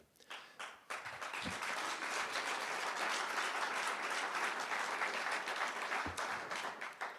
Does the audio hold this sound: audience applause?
yes